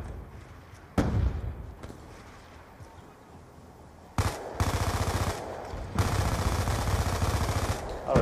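Gunfire in Black Ops II comes as a sharp single shot, then two loud sustained automatic bursts, with quiet gaps between them.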